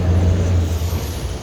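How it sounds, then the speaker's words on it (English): A heavy truck rumbles past close by, a steady low engine roar with broad road noise holding for the whole moment, no clear hiss of air brakes standing out. "another truck."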